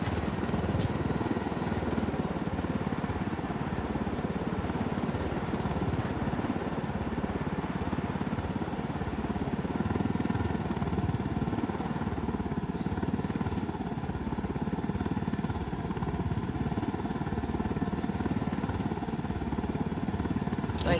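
A helicopter in Ghost Recon Wildlands drones steadily throughout, a constant rotor and engine hum at even loudness with no clear break, and faint talk underneath.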